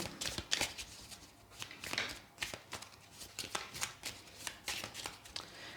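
Oracle cards being shuffled by hand, a quick run of crisp riffles and flutters in uneven bursts, close and soft, with no talking.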